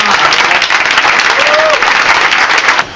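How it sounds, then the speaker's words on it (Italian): An audience at a presentation event breaks into dense, loud applause that continues without a break for about three seconds, then cuts off. "Vi presento un grande applauso per Diego Manna."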